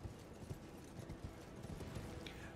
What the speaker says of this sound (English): Let's wheel my horse around and get out of here.